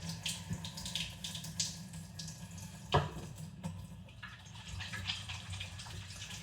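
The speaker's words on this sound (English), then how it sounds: "we'll go ahead and wash our hands one time" Running tap water pours steadily into a sink while hands are washed during meatloaf preparation, a continuous close splashing hiss with a brief louder splash midway.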